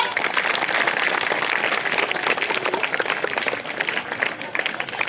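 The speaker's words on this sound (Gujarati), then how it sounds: "છોકરાઓ તાળીઓ પાડો" A group of schoolchildren claps together at a school ceremony, a dense, steady patter of many small hands that fills the whole stretch at an even level.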